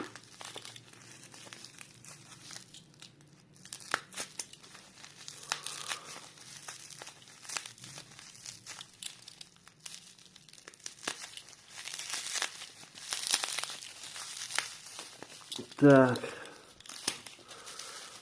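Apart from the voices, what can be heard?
unwrapping a taped package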